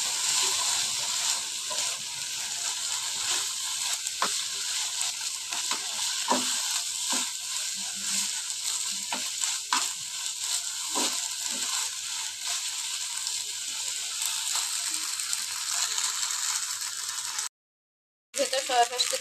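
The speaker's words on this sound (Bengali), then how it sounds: "পরে আছে বাদাম, আলু, লঙ্কা, পেঁয়াজ, চাউমিন আর একটু সয়া সস দিয়েছি, দিয়ে এটাকে নাড়াচ্ছি" Chow mein with peanuts, potato, chilli, onion and soy sauce stirred in a pan, producing a constant hiss of frying with intermittent scraping and clattering strokes, close up, with a brief silent gap near the end.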